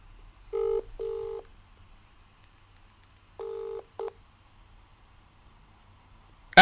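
A phone call is dialed on a handset: a few short touch-tone beeps in two quick clusters, close and clean against a quiet background, with no ringing heard afterward.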